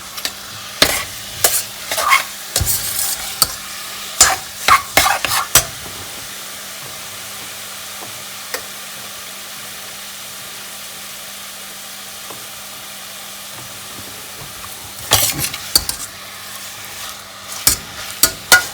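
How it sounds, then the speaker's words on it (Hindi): Minced chicken breast stir-fried in a pan, with bursts of scraping and stirring clatter over a low sizzle, a quieter stretch in the middle and more stirring near the end, no voices. "इसको थोड़ा सा भूना है, फिर इसमें टमाटर डालेगा।"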